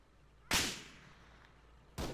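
Two sharp, heavy gunshots in Arma 3 with the Breaking Point mod, each a loud crack followed by a rolling echo, spaced about a second and a half apart over a quiet background.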